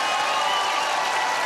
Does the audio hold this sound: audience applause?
yes